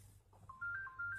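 A mobile phone ringtone plays a bright, electronic repeating melody of short tones, faint and close, with no talking during it.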